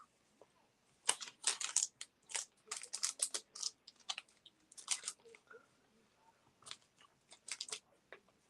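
Quiet, close bursts of keystrokes on a computer keyboard come in irregular clusters of rapid clicks, separated by short pauses.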